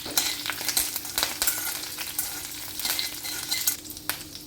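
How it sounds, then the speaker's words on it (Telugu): Mustard seeds, curry leaves and three dried red chilies frying in hot oil, a close, lively crackle of popping seeds and sputters over a steady sizzle, no voices. "ఆయిల్ వేసుకొని అది కూడా కొంచెం వేడెక్కిన తర్వాత ఆవాలు, కరివేపాకు అండ్ ఎండుమిరపకాయలు 3 కలిపి వేసుకొని లైట్గా వేయించుకోవాలండి"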